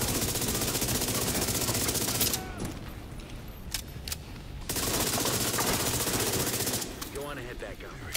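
Gunfire in a Resident Evil video game: dense, sustained bursts of shots fill the scene, pause briefly with a few isolated cracks, then resume loudly, with a voice talking now and then underneath.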